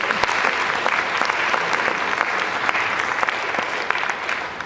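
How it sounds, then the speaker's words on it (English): A large college convocation audience gives a round of applause, with dense, continuous clapping from many hands at a steady, fairly loud level and no voices over it. "So please give yourselves a round of applause"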